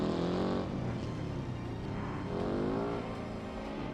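A race car engine in the driving game BeamNG roars steadily at high revs, a loud continuous whine that shifts pitch slightly as it accelerates, with no voices.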